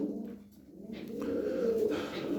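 Pigeons coo in a loft, a low rolling call swelling in the second half, fairly close and alone with no talking.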